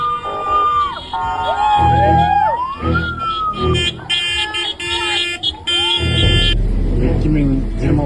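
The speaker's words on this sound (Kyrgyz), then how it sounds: "ошол боюнча машиналар кирип атат" Police cars and emergency vehicles drive into a village after a road incident, their sirens wailing and warbling in sweeping tones over engine rumble and loud honking, with people talking underneath.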